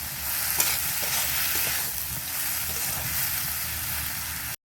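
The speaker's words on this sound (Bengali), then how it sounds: "আমি এখন মাংসটা করছি" Meat curry sizzles loudly as it fries in a pan and is stirred, with a steady close crackle and a few scraping strokes of the spoon throughout.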